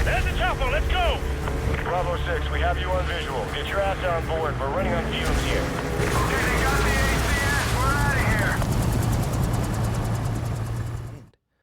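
A military helicopter in the video game Call of Duty: Modern Warfare 2, a steady low rotor drone running under continuous shouted voices and scattered gunfire, loud and close for about eleven seconds before cutting off abruptly.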